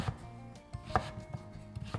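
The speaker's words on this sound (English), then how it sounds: "I'll start by cutting this into strips," Kitchen knife chopping a peeled butternut squash into half-inch strips on a cutting board, with five or six sharp, evenly spaced knocks, close and fairly loud, and no talking.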